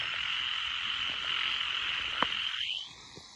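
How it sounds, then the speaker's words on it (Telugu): Frogs croaking in a canal at night, a dense, continuous chorus of high trilling calls that fills the space, steady and fairly close, fading near the end; no voices. "ఇది మొత్తం కప్పల సౌండ్ ఫ్రెండ్స్."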